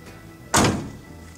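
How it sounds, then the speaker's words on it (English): The door of a 1968 Pontiac GTO four-speed shuts with one solid, close thunk that dies away quickly against quiet background. "Door shuts nice and solid."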